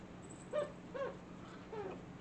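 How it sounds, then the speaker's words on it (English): A small female dog lets out three or four faint, short yips and whimpers, spaced apart in a quiet room. "There's our barking, our little barking girl."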